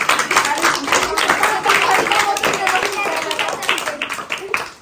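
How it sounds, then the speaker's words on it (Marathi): A crowd at a Ganesh festival competition prize-giving claps steadily and enthusiastically, the applause sustained for several seconds with voices mixed in, then tapering off at the end. "मॅडम साठी जोरदार टाळ्या होत्या"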